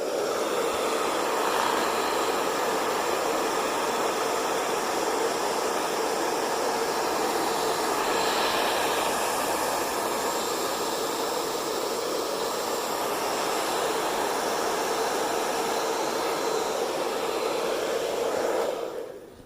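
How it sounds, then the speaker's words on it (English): A hair dryer on its highest setting blows steadily at close range, heating vinyl on a craft foam pumpkin, a continuous whooshing roar of air that holds even throughout before cutting off at the very end. "We're going to use the dryer, the hair dryer, to add a little heat to it"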